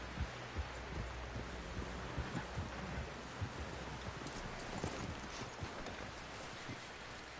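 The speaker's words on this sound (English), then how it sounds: "Someone help John down off this horse." Steady clip-clop of horse hooves at a walking pace in the video game Red Dead Redemption 2, soft rhythmic thuds over a bed of rustling outdoor ambience.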